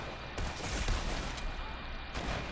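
Gunfire in the Fortnite video game, a sniper shot among several near, sharp bursts with dense rumbling reports over a steady loud game background, with no talking.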